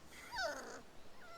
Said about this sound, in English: What'd they do to that pupper?